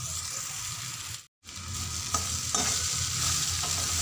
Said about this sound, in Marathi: आता छान एकजीव करून घेते